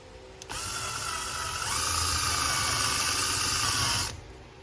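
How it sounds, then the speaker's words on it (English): Power drill boring a hole through a Jeep Gladiator bumper, a steady high whine that starts abruptly, climbs in pitch partway through, then cuts off after about three and a half seconds, close and alone. "So let's get the drill and put a hole in this thing."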